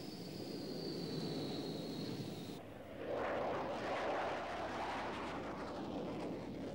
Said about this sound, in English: This is the Tomcat's second test flight.